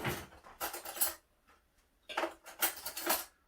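Spoon stirring a pot of Pot Noodle Bombay Bad Boy, giving two bursts of scraping, clinking strokes separated by a brief quiet pause, close and moderately loud.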